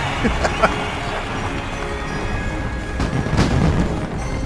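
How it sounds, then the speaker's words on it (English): Fireworks at the Darkmoon Faire in World of Warcraft pop and boom repeatedly over a dense, continuous roar of fairground game ambience, with several sharper bangs standing out. "Shut up, fireworks."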